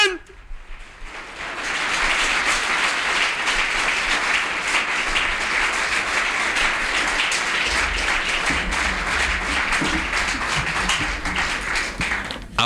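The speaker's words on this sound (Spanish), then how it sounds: "Aplaude, aplaude, aplaude, aplaude, aplaude, aplaude, aplaude." A church congregation applauds in a sustained, dense burst of clapping that builds quickly and holds steady for over ten seconds, with a low rumble and faint voices underneath.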